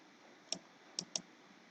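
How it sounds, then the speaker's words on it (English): Three sharp key clicks on a computer keyboard as the delete key is pressed, two close together after a single one, quiet and near over a faint room hiss. "we'll press the delete on our keyboard"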